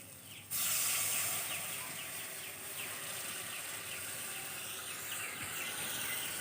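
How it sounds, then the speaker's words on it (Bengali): Water poured into tomato masala frying in a pan for an egg curry sets off a sudden loud hiss. A steady sizzle then holds close by for several seconds, with no voices. "তো এখন দিয়ে দেবো জল।"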